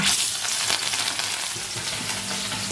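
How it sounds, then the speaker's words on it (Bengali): Rui fish frying in hot oil, a loud, dense, close crackling sizzle that runs continuously through the whole moment with no voices. "তেলটা ভালো করে গরম করে নিয়েছি, এবার মাছগুলো দিয়ে দেবো।"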